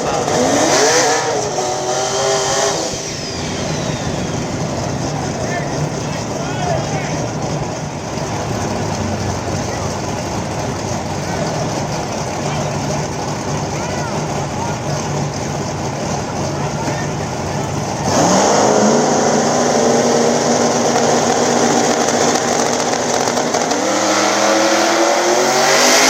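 Two drag race cars, a Turbo Chevy II on the inside against Robbie Dollar's Caroline Performance car, launch at a small-tire event at Dig Days VII, engines roaring loud and sustained with rising revs and shifts while an announcer talks over them.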